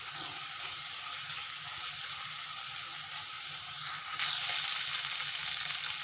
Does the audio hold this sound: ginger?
yes